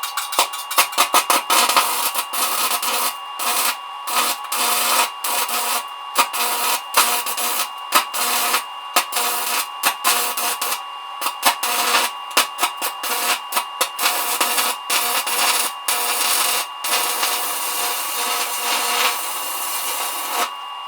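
A DC arc welder runs a welding rod at 80 amps, its maximum setting, producing a loud, steady crackling sizzle broken by short gaps as the arc is struck and restarted, with no talking.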